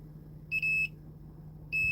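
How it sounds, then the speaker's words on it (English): A digital multimeter set to continuity mode, used while repairing a PS5 that won't power on, gives two sharp, high electronic beeps separated by a second of quiet, close and clear over a faint hum. "Put this in continuity mode. I'll tap them, get that beep."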